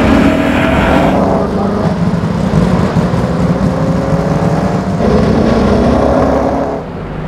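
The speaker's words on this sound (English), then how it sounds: "Somewhere that's never echoed to the sound of its thunderous 3-litre straight-eight engine." A Mercedes-Benz racing car with a 3-litre straight-eight engine roars loudly and continuously, its pitch rising and easing as it accelerates, close by.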